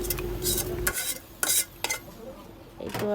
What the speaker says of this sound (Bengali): কাঁচামরিচ দেওয়ার পরে রসুন সেদ্ধ হওয়া পর্যন্ত আমি ভেজে নেব।